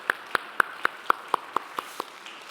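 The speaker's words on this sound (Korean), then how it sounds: "네, 박수하겠습니다." Congregation at a Korean Sunday church service claps in unison to welcome a newcomer: about nine crisp, evenly spaced claps at a quick steady beat, fading slightly toward the end in a quiet room.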